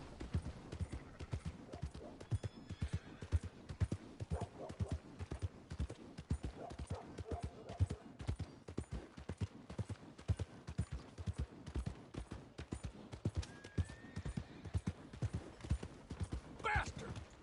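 Horse hooves clip-clopping at a steady trot in Red Dead Redemption 2, rhythmic and close throughout, with a rider's voice talking over the hoofbeats at times and a brief whinny near the end.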